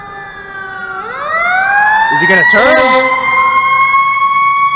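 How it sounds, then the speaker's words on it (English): Fire truck siren passing on a street, its wailing tones sliding and swelling loud and near, with a brief low horn blast midway and a person speaking over it. "That's a fire truck here."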